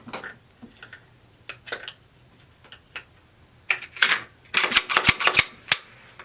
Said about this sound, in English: pull on the top of the chamber, put these two levers down, let it go, pull